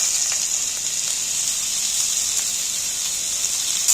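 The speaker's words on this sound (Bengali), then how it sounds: "এইবার আমি গুঁড়ো গুঁড়ো পেঁয়াজ কাটাগুলো তুলে দিচ্ছি এর মধ্যে" Finely chopped onions go into hot oil already frying chillies, setting off a loud, steady, close sizzling hiss that holds evenly throughout.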